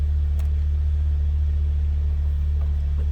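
A 2007 Pontiac Solstice engine idles steadily just after starting, a close, even low rumble with a smooth, unbroken rhythm and no voices.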